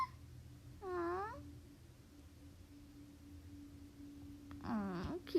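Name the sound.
cat meowing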